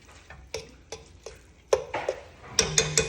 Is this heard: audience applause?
no